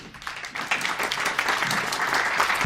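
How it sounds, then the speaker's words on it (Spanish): An audience at an academic conference on transnational organized crime applauds to welcome a speaker, with steady, dense clapping throughout the short stretch. "Recibamos con un gran aplauso"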